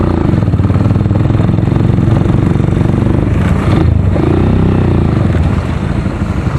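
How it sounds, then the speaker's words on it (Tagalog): An enduro motorcycle engine runs loud and close, with a dense steady drone and mechanical clatter throughout, revving slightly near the middle, no talking. "Enduro na naman ang aking motor."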